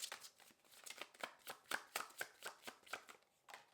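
A deck of tarot cards being riffled and shuffled by hand, a quick run of about a dozen crisp papery flutters in a steady rhythm, close and quiet with no talking.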